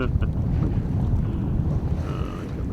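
Steady wind roars across the microphone on a small sailing boat at sea as a squall approaches, with rushing low noise filling the short stretch and no voices.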